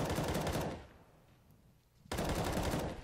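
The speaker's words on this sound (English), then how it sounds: "Fnatic trying to respond with the pistols of their own." Pistol fire during a professional CS:GO match on Mirage, dense rapid shooting that drops away briefly to a quiet lull and then resumes abruptly, heard at low level.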